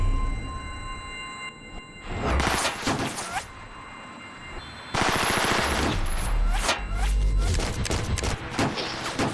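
Loud bursts of rapid automatic gunfire crackle in two long volleys, separated by a brief quieter lull.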